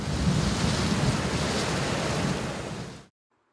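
A dense, loud roar of heavy typhoon rain pours continuously in Taiwan, then cuts off abruptly into near silence.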